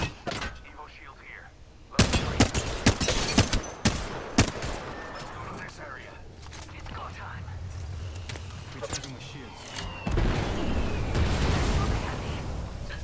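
Video game gunfire in Apex Legends, two enemy teams shooting: bursts of rapid automatic shots and sharp single cracks crowd the first seconds, then thinner distant firing over ongoing game noise, with another heavy volley near the end.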